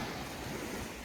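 Sea waves at Malvan beach beside an early-morning fish auction, a steady wash of surf and wind noise with no distinct breaks and no voices.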